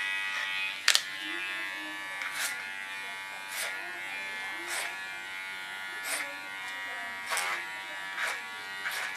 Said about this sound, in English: She has strong hair, you can hear that because my clipper stuck in her hair.